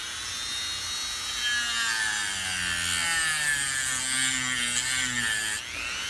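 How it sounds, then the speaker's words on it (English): Dremel rotary tool carving a wood stamp, a steady high-pitched whine with rasping grind that shifts in pitch as the bit bites into the wood, close and continuous with no talking. "So let's fire up the Dremel."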